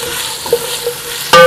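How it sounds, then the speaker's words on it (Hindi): Onions frying in a pan for beef biryani, a soft continuous sizzle with a few faint stirring clicks, ending in a sudden louder scrape. "इसको प्याज को फ्राई करते हैं"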